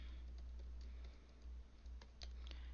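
Keys tapped on a computer keyboard while writing code, a handful of light, irregular clicks spread across a quiet room with a steady low hum beneath.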